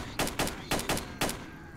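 Buckshot shotgun blasts in S.T.A.L.K.E.R.: Shadow of Chernobyl, five loud broadband shots in uneven bursts, some paired close together, over low background rumble with no talk.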